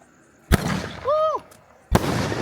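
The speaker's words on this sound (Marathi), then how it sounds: "आता ना आम्ही एका फटाक्याचा ट्रायल घेतोय की तो कसा फुटतोय म्हणून" Two sharp, loud firecracker bangs on a quiet road, each a sudden burst followed by a lingering rumble, with a brief whistling tone between them.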